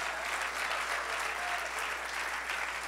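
A church congregation at an evangelistic service breaks into steady, dense applause, a full, even wash of many hands clapping at once that holds at a constant level throughout, with no voices standing out.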